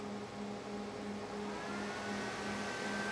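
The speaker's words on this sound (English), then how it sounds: "That noise is one of the fans on full load." Steady whirring computer case fan at full speed with a faint tonal hum, constant and moderately quiet, close by with no voices.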